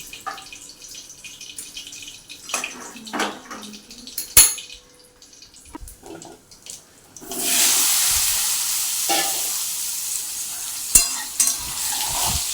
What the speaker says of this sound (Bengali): এই তেলটার মধ্যে একটু তেল দিয়ে একটু ফোড়ন দিয়ে আলুটা ভাজবো